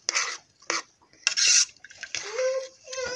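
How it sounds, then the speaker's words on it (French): Moroccan-style lentils stirred in a cooking pot, with scraping, swishing strokes arriving in irregular bursts, close and moderately loud, and a voice talking briefly over the stirring. "Donc je mélange"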